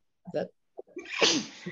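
A single sudden sneeze, preceded by a short sharp intake and small vocal sounds, close and clear in a quiet room.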